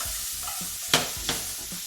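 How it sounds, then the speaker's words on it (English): Garlic frying on lowered heat in a pan, a steady hiss of sizzling broken by two sharp spatula scrapes and a few softer stirring sounds close by, with no talking. "And be careful, we don't want this garlic to burn, okay?"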